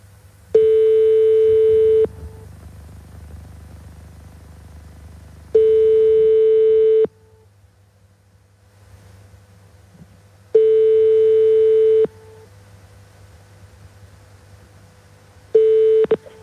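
A telephone line gives a repeating tone while a caller waits for a hotel to pick up. Four long steady tones sound, evenly spaced, with quiet gaps between them.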